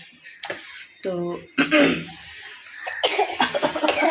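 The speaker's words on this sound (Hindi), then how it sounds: "इनको खांसी आ गई।" Someone nearby gives several short, sharp coughs in quick bursts, with people talking in between.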